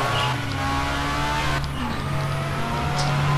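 Sports car engine in the Alarm für Cobra 11 video game, a steady droning hum as the car drives and accelerates, holding a fairly constant loud level for a few seconds with no talking.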